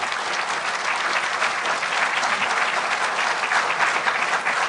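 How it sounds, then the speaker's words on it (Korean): Loud, sustained applause from a large audience at a Kwanhun Club debate, even and continuous throughout with no voices standing out. "여러분 큰 박수로 맞아주시기 바랍니다"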